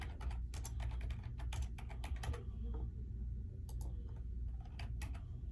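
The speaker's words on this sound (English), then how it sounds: "of course you have to type it in your valid mobile number" Fingers tap out a mobile number on a keyboard in quick clusters of light, close clicks, pausing briefly mid-way before a few more keystrokes, over a steady low room hum.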